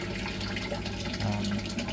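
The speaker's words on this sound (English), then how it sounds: "I gave it a good squeeze in here to try and get some of the beneficial bacteria into this water" Water gushes and splashes as a filter sponge is squeezed out into a fish tank holding Tamasaba fry, a steady close pouring sound without speech.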